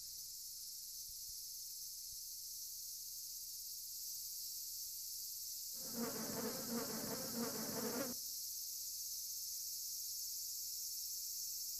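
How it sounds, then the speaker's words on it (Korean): An Asian giant hornet buzzing near oak sap, a distinct buzz lasting about two seconds mid-way, standing out against a steady high-pitched insect drone and otherwise quiet background. "장수말벌이 나타났다."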